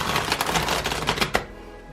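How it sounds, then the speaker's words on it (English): A large tarot deck is riffle shuffled by hand, a quick, close burst of rapid fluttering card clicks that ends with a sharp snap, then falls quiet. "I'm just going to try and riffle shuffle it"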